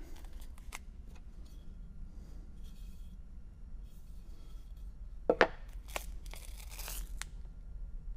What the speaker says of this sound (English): I'm gonna quickly throw some double-sided tape on it.